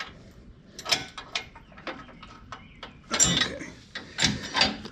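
A ratchet clicks in quick bursts tightening bolts on an off-road winch bumper, close and moderately loud, with irregular pauses between runs and a brief spoken word.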